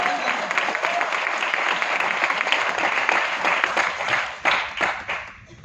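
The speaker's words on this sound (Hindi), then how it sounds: "तो एक बार तालियां बजा दो, एक बार जोरदार जो आप देना चाहो" An indoor audience at a live mentorship seminar claps steadily, with dense, sustained applause that swells and then tapers near the end.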